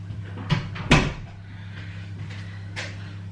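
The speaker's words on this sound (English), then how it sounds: "Close this door." A door is pushed shut indoors with a sharp, close thud followed by a fainter knock, over a steady low household hum.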